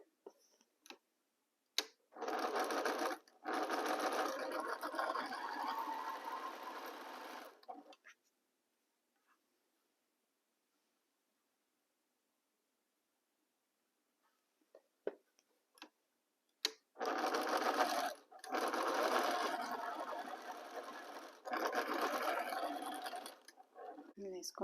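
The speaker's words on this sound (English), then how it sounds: "Now row number 4, we align the fabrics and sew." A sewing machine stitches fabric rows of a quilt block in two long, steady bursts of rapid mechanical clatter, separated by a quiet stretch with a few isolated clicks.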